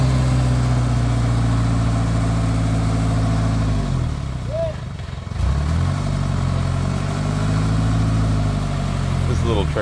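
A small truck's engine idles steadily nearby, a low rumble that dips briefly midway before settling back, with voices talking over it.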